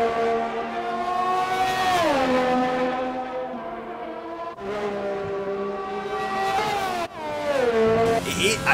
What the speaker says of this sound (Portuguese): O ronco do motor tá bonito, olha só.